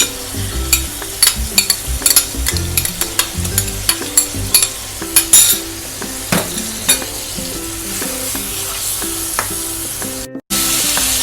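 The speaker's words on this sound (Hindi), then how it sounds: "ये देखें हमारे टमाटर भून रहे हैं।" Tomatoes and spices with garlic-ginger paste sizzle and fry steadily in a pan, with frequent stirring scrapes and clinks over the continuous hiss.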